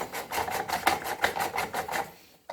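Rapid rhythmic ratcheting or clicking repeats in even bursts while the guide bar is fitted onto an Oregon PowerSharp CS1500 chainsaw with its tool-free automatic chain tensioning system, close and moderately loud, then stops abruptly.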